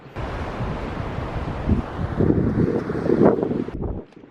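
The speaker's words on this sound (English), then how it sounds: "The wind is so strong." Strong gusting wind on a winter hike toward the base of Torres del Paine, roaring and buffeting close against the microphone, swelling louder in the middle before dropping off at the end.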